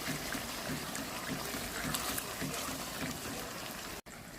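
Chicken karahi cooks in yogurt in a wok-style pan, with a steady dense sizzle and bubbling as the liquid reduces. The sound is continuous and fairly close, with a brief cut near the end.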